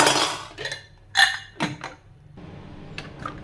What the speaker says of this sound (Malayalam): നമുക്ക് കുക്കർ അടച്ച് വയ്ക്കാം